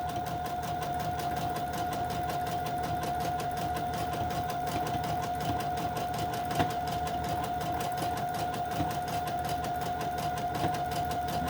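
A sewing machine runs steadily, zigzag stitching across fabric and lace, its motor holding a constant whir with a faint rhythmic needle chatter and occasional slight bumps as the piece is turned; no voices.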